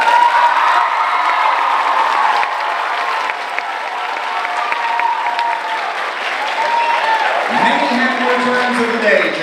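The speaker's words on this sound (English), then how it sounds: "Let's all give a rousing cheer for Jake Crispin" Audience at an American Legion post Veterans Day gathering cheering and applauding for a member's birthday, with sustained loud clapping, whoops and shouts throughout.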